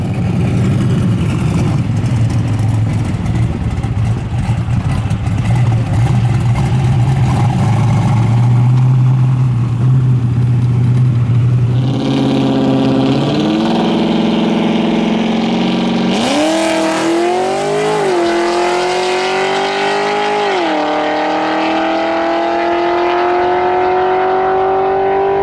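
Drag racing car at the strip, a loud close engine rumbling at steady revs, then climbing hard through rising gear pulls as it accelerates away, the roar staying strong throughout.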